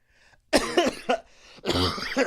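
A man coughs hard several times in quick bursts, close and loud, after a faint short sound and a brief pause.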